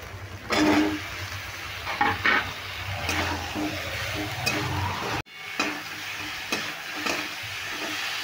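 Tomato and ridge gourd fry in a pan with tempering spices, a steady sizzle broken by scraping stirs, then a brief cut before the frying and stirring carry on.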